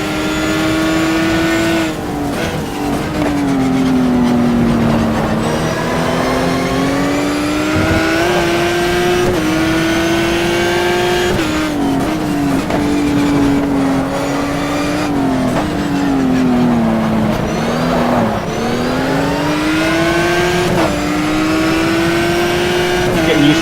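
A race car engine in the sim racing game GTR2 screams close and loud, its pitch climbing and dropping sharply at each gear change through the laps, with a voice heard at times over it.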